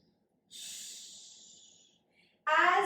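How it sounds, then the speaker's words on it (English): Slow breaths during a mat Pilates stretch: a long, soft airy inhale or exhale that gradually fades, a pause, then a sharper, louder breath close to the mic. "Inhaling and exhaling."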